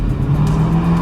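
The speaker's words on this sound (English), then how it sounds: "do a little bit of a burnout" Dodge Dakota R/T truck doing a burnout, its engine roaring loud and close with a steady low drone and rising tire noise across a short burst.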